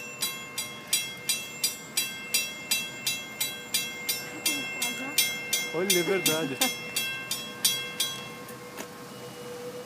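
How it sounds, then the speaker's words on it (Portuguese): A train passing by on a snowy Christmas day, its wheels clicking in a steady rhythmic clatter that fades toward the end, with people talking briefly over it. "Olha o trem."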